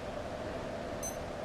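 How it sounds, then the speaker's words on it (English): A Casio G-Shock GBD-200 watch gives a single short, high electronic button beep near the end, heard faintly over a quiet room hiss. "With the GBD 200s, the beep only happens when you let go of the pusher."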